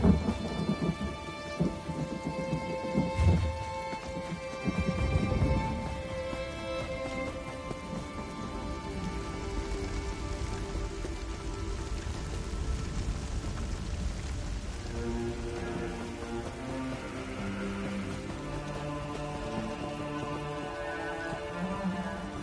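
Steady heavy rain pours in The Elder Scrolls Online, with loud rolling thunder crashing in the first few seconds and then easing into a continuous downpour over soft, sustained game music.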